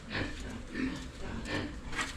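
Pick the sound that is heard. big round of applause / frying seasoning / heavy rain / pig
pig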